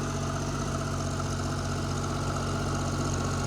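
A John Deere 322 lawn tractor engine idles steadily while warming up, a loud, continuous low rumble with an even, throbbing pulse and no voices over it.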